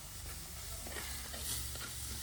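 A curry seasoned with rock salt is stirred in a pot, soft scraping spoon strokes over a faint, low sizzle, quiet and close with no voices.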